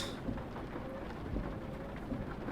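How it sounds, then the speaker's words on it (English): Rain falls in the truck-driving game Euro Truck Simulator 2, a soft, steady hiss with faint low rumbles underneath and no speech. "Luckily, I have it set so the rain doesn't last too long."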